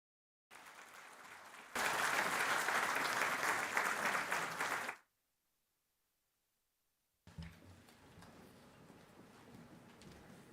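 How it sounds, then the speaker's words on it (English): A conference hall audience at an international arbitration conference applauds the Chief Justice of India. A loud, dense burst of clapping lasts about three seconds, then cuts to silence before faint room noise resumes. "now please join me in welcoming the Honorable CJI with a much louder round of applause."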